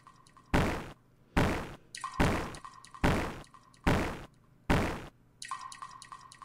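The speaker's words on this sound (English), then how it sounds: "Destroy wall with bat." Six evenly spaced heavy thuds of a bat striking a cracked wall in the video game Midnight Puppeteer, loud and close, each with a short ringing decay over a faint steady hum.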